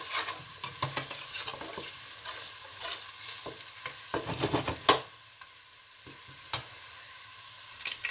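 Whole spices, including three pieces of cinnamon, fry in a pot for chicken pulao, a soft close sizzle punctuated by sharp clinks and scrapes of a spoon stirring.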